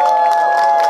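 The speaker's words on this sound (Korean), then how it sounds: "네, 큰 박수 부탁드립니다." A rally crowd at a protest against dumping Fukushima nuclear wastewater cheers and applauds a speaker, a loud, dense swell of voices and clapping filling the whole moment.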